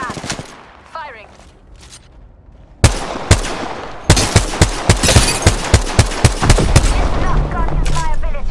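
Gunfire from the Apex Legends video game, quiet at first, then loud single shots followed by a close, rapid burst of automatic fire, with game voices heard briefly before it.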